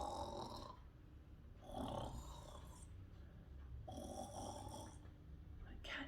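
A woman reading the Goldilocks story aloud imitates the girl snoring, producing a few slow, throaty snores in an even rhythm, each followed by a soft breathy exhale.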